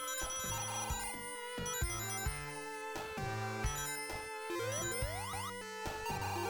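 Sonic 2 game music running on a PAL console, a bright chiptune with bouncy bass notes, quick melodic runs and rising sweeps, steady and moderately loud with no talking.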